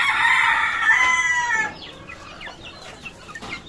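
A rooster crows loudly and close for about a second and a half, followed by softer scattered clucking from chickens; no talk is heard.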